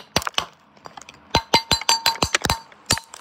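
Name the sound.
spoon breaking a massive frozen ice cube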